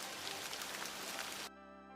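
Steady rain falls on a maize field, a dense, even hiss of drops on the ground and leaves that stops abruptly after about a second and a half, leaving only a faint tonal hum.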